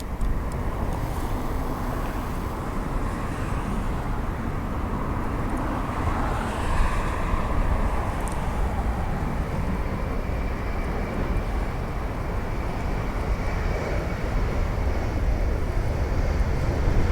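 A WestJet airliner taking off from LAX's north runway, a loud sustained roar of jet engines heard from a distance, steady throughout with no voices.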